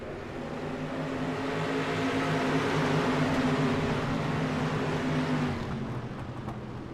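Stock cars racing at Langley Speedway, a steady, droning engine roar from a pack of cars that holds for several seconds, heard at moderate distance with no voices over it.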